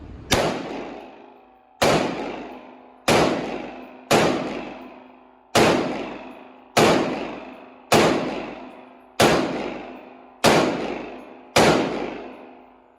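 Palmetto Arms AR15 rifle shots fired outdoors: nine loud, sharp single reports at a slow, fairly even pace, each trailing off in a long echoing decay, with no talking between them.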